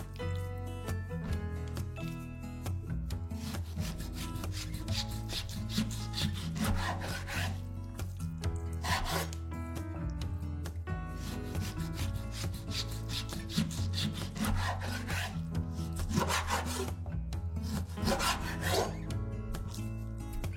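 Repeated back-and-forth sawing strokes of a knife slicing beef against the grain on a board, steady and close, continuing without pause.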